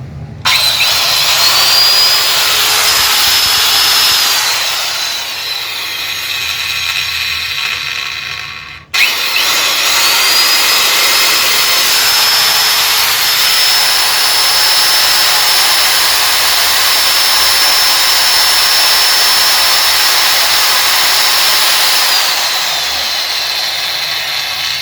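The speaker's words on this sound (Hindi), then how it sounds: "मशीन में गियर से थोड़ा साउंड आ रहा है" A CM4 marble cutter runs loud and steady with whining noise from its old, worn gear; the motor cuts out briefly near nine seconds, then spins back up and holds its high whine to the end, with no talking.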